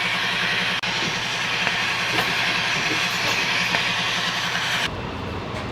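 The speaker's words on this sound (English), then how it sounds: "I'm going to use this steamer to try and straighten it out so I can get a more accurate pattern" A handheld fabric steamer on upholstery material for a Dodge Ram seat bottom gives a loud, close, steady hiss, then cuts off abruptly near the end, leaving a quieter background hum.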